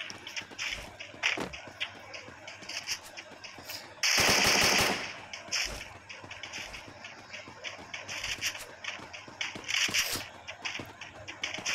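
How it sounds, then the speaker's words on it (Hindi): Kingfisher gun firing in the mobile game Free Fire during a Clash Squad match, rapid bursts of automatic gunfire with a dense loud volley in the middle, mixed with scattered shots and footstep-like taps. "भाई किंग फिशर बहुत अच्छी गन है, इससे बहुत अच्छे शॉट सकते हैं"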